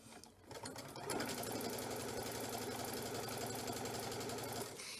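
A sewing machine runs a continuous straight piecing stitch, a fast, even mechanical rattle that starts after a brief pause and keeps a steady rhythm throughout.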